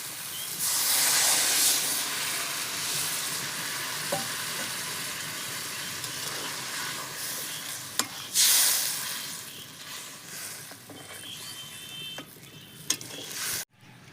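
A pot of catla fish curry hisses and sizzles steadily at close range, with a louder surge of bubbling steam partway through as water is added, and a few clinks of utensils.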